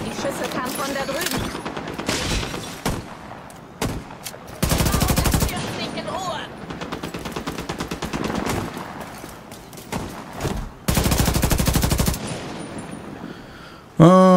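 Two long bursts of rapid automatic gunfire from The Division 2 (Broken Wings mission), loud and dense, separated by scattered single shots, with players talking over the game action between volleys.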